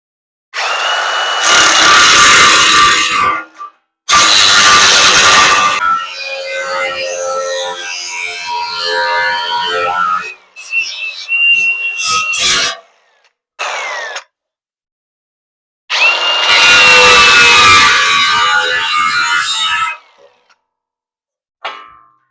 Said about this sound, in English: Got my cut-off wheel that I've gone through about 7 blades today.